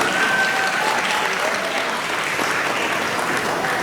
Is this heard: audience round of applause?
yes